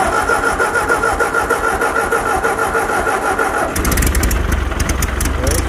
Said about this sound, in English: help us make this tractor run today